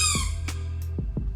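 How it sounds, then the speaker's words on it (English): A squeaky rubber chicken toy squeezed several times, giving a drawn-out squeal followed by a few short, close squeaks. "And this is a squeaky"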